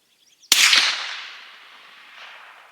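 A single loud, sharp report from a suppressed .416 Ruger elephant gun rifle cracks out suddenly, then trails off in a long fading echo outdoors, with no voices.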